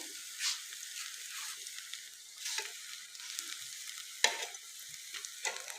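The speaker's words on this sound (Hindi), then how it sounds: "इसी तरह हम तमाम कबाब को फ्राई कर लेंगे" Vegetable kebabs fry in a pan, giving a soft, fairly quiet sizzle with intermittent bursts of crackle and a few light clinks.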